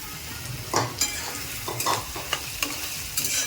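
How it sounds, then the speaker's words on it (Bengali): Chopped onions, four medium ones, frying in oil with whole cumin in a pan, a soft steady sizzle broken by several sharp stirring scrapes, close and fairly quiet with no talking. "পেঁয়াজগুলোকে তেলের মধ্যে দিয়ে দেব।"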